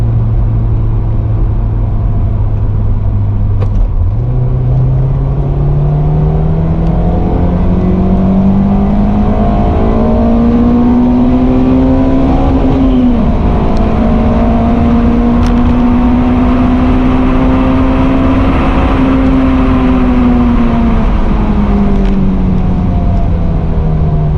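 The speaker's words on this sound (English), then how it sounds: "Maybe we'll do a short little third gear pull real quick until we actually get there." Honda S2000 pulling hard through third and fourth gear on a road, a loud sustained engine roar climbing in pitch, dropping sharply at each upshift, then rising again steadily.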